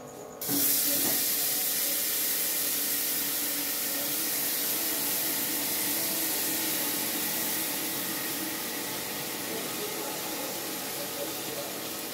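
Spice-marinated rice drops into a hot pan with a sudden burst, then a loud, steady sizzle and hiss continues for the rest of the clip, fading slightly toward the end.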